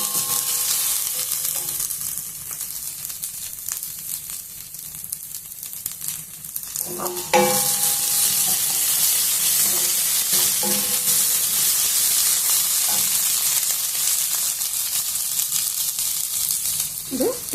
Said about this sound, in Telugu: కొంచెము అల్లం వెల్లుల్లి పేస్టు వేసి కొద్దిసేపు మగ్గనిద్దాం.